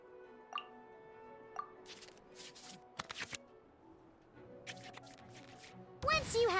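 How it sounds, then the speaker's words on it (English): Soft card-game interface sounds as cards go back into the draw pile in the Genshin Impact card game: faint clicks, swishes and light taps spread across the clip, ending in a louder burst of bright chimes. "we can select any number of cards in our hand to shuffle back into the draw pile"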